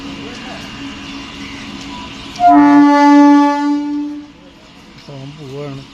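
A MEMU train at a railway station blares a loud, sustained two-tone horn lasting about two seconds as it departs, preceded and followed by someone talking nearby.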